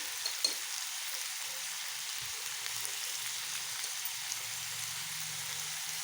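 Goat head meat frying in a pan for curry: a soft, steady crackling sizzle throughout, fairly faint and even, with an occasional light tap and no voices.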